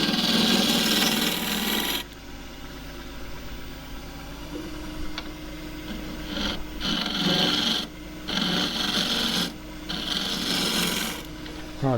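Woodturning scraper cutting dry jarrah burl on a lathe, rough rasping bursts that start and stop over a steady motor hum, close and fairly loud.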